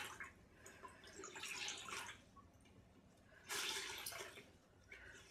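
A wet t-shirt wrung out over a basin, soft trickles and splashes of water dripping and pouring in short bursts, quiet and close.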